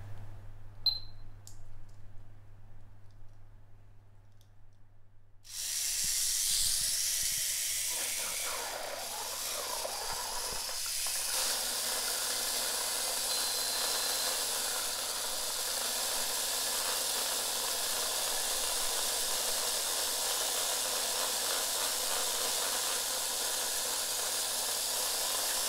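A Tamiya Mini4WD car motor fitted with metal high-speed gears runs flat out in a speed test. After a few quiet seconds, a loud, sustained hissing whir starts and continues to the end.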